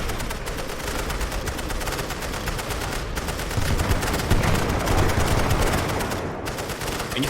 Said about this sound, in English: They're attacking the machine guns.